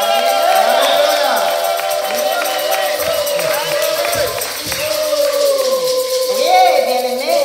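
A church congregation at a Sunday worship service cheers and acclaims together, sustained loud crowd voices with sung, wavering calls, accompanied by music throughout.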